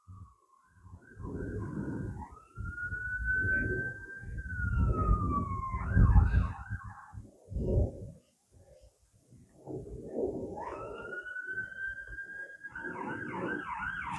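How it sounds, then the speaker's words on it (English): A wailing siren rises and falls twice over a loud, rumbling low background, fading briefly in between; no one speaks. "I think it's an ambulance"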